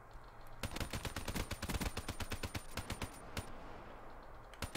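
Rapid automatic gunfire from the Man-O-War rifle in Black Ops 3 rattles in loud, close bursts of evenly spaced shots, pausing briefly before a final couple of rounds.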